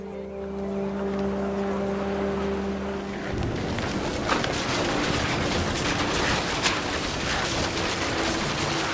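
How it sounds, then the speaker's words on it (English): Heavy rain comes down in What Remains of Edith Finch, starting abruptly after a quiet tonal passage and then hissing as a dense, steady wash of noise with occasional louder bursts. "rain came down in buckets then, but no one seemed afraid that nature might destroy the tent"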